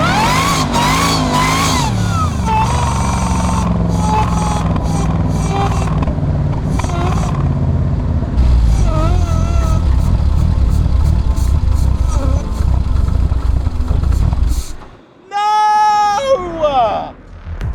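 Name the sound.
modified Jaguar car accelerating in a launch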